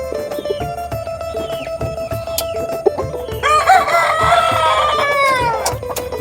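Chickens of a layer cross breed cluck in short bursts before a rooster crows loudly and close by, its long drawn-out call rising over the flock.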